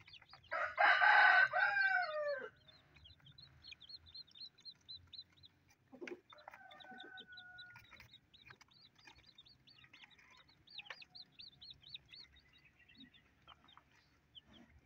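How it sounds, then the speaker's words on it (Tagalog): Native chickens heard close by: a loud rooster crow opens, then softer clucks and chirping calls from hens and chicks continue steadily in the background. "Native chicken,"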